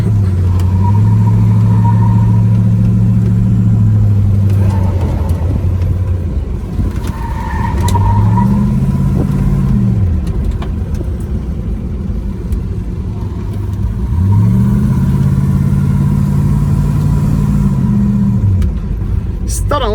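A black automatic Dodge Magnum from 1979 drives with a loud, close engine rumble that rises and falls through several revving swells as the car moves.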